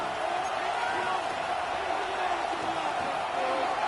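Loud, steady roar of a stadium crowd in a football video game, a dense wash of cheering that holds constant and close throughout with no break.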